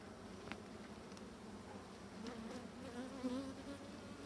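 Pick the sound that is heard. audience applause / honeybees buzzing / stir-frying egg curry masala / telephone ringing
honeybees buzzing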